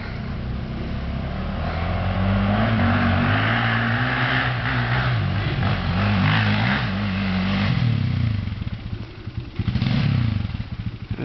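A car engine labours and revs while climbing a steep hill with a dirt patch, loud and close, its pitch rising and falling through gear changes and holding steady for several seconds before easing off and surging again near the end.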